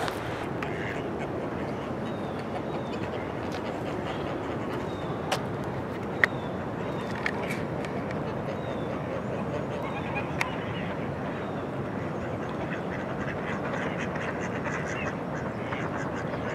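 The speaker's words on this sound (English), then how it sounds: "When surrounded by ducks," Ducks quacking at a pond on Dufferin Islands in Niagara Falls, Ontario, repeated quacks from several birds near and far over steady outdoor background noise.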